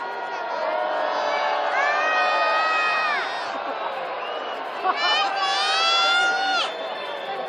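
A crowd aboard a night river cruise in Chengdu during Chinese New Year celebrations cheers loudly, two sustained waves of shouts and whoops with high voices rising over the din.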